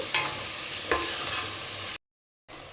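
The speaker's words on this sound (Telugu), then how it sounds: "క్లీన్ చేసి పెట్టుకున్న రొయ్యలు కూడా వేసేసుకుందాం మొత్తం మసాలా ఈ రొయ్యలకు పట్టేలాగా కలిపేసుకుందామండి" Raw prawns being stirred into masala in a pan, with a soft frying sizzle and a couple of scraping stirs, then a brief silent gap before the sizzle resumes.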